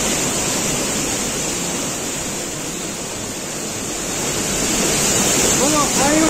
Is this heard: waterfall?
yes